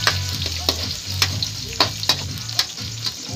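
Garlic and onion sauté in a pan, a steady sizzle broken by a few sharp scraping clicks of a utensil stirring, close and moderately loud, no voices.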